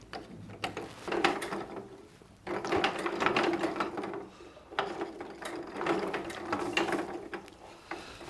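Historic oil mill machinery at a mill museum in the Bergisches Land feeds rapeseed between two millstones. It makes rhythmic ratcheting, clacking gear noise in three surging cycles, nearby and with no talking.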